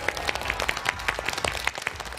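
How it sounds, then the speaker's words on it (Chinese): Studio audience clapping on a Chinese TV health talk show set, a brief burst of scattered, fairly close hand claps with a loose uneven rhythm, moderately loud and with no voices over it. "掌声先欢迎我们今天到场的各位观众和嘉宾团的四位成员。"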